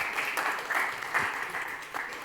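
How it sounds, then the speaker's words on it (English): An audience at an industry talk claps in applause for Google, a moderate, steady patter of many hands heard from a distance with no talk over it. "Round of applause for Google"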